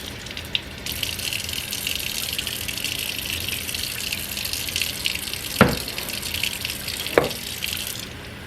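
Regular, barely lukewarm tap water gushing steadily into canning jars for cold-packing squash, a continuous close rushing flow with a couple of sharp clinks of glass.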